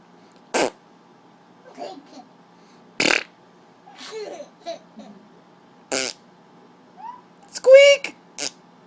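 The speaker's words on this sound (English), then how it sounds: "You like the fart sound." A toy's fart sound effect goes off in several short, separate bursts, close and fairly loud, with a toddler's babbling and squeaks and an adult voice heard in the quiet gaps between them.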